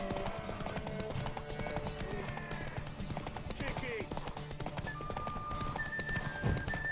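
Horse hooves clip-clop steadily with an occasional whinny in The Witcher 3, set against busy game music and effects, while a voice shouts briefly.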